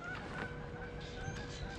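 Several geese honk together in a noisy, overlapping chorus, steady and fairly close for a couple of seconds.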